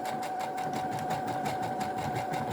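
A sewing machine stitches a buttonhole with a zigzag and a bar tack, giving a fast, even, close mechanical whir with rapid regular needle beats and no talk.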